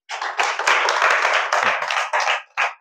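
A group of students clapping together in a classroom, a loud close burst of rapid claps lasting a couple of seconds, breaking into short final spurts before stopping.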